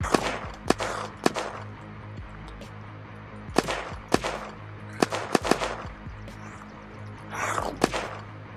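Player's gun firing in a video game, sharp single shots and quick short bursts spread across the span, loud against a low steady background rumble.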